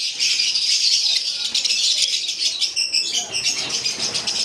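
A flock of lovebirds chatters continuously with dense, high-pitched chirps and tweets, close and fairly loud, with faint rustling and wing movement mixed in.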